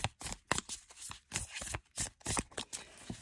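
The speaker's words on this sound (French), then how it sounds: "on va mélanger les cartes d'abord du tarot" Tarot cards shuffled by hand in several quick bursts, close and fairly soft, with short riffling papery flutters separated by brief pauses and no talking.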